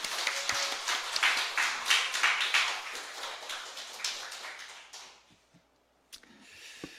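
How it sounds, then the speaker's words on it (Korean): A church congregation claps for a deaconess, a lively burst of applause that swells, then thins out and fades to near silence before a few scattered final claps. "우리 권사님께 격려의 박수를 한번 올리겠습니다"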